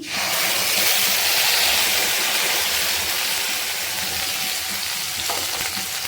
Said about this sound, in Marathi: प्युरी छान शिजवून घ्यायची तेलात